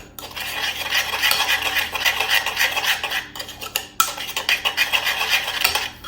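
A utensil stirs a thick paste around shrimp in a bowl, scraping and clinking against the sides in steady repeated strokes, close and fairly loud with a short pause midway.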